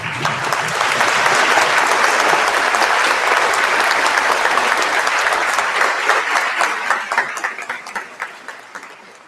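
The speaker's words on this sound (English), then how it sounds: "quite clearly we have an enthusiastic crowd out there" An enthusiastic crowd applauds a graduating class at a convocation ceremony. Loud, dense clapping fills the hall for several seconds, then thins into scattered individual claps as it fades.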